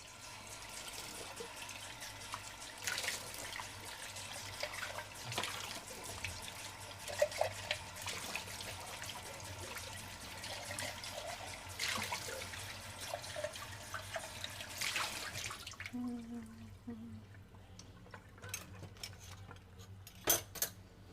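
A kitchen tap runs into a sink while a dish is washed again, water splashing in a soft steady stream with scattered clinks of cutlery and dishes, then the flow stops and a few faint clatters remain.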